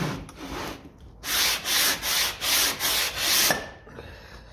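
Fresh sandpaper rubs on the thermostat housing of a 1957 Ferguson FE35 TVO tractor in six loud, even back-and-forth strokes, with quieter scraping just before and after.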